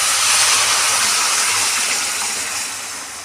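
A loud, steady rushing gush of boiled water pouring into a hot pan of semolina, hissing with steam and tapering off slightly toward the end.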